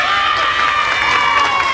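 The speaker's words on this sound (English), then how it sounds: "So a sympathetic cheer there for George." A crowd at a 1988 Britain's Strongest Man contest gives a loud, sustained cheer with shouts, close and continuous throughout.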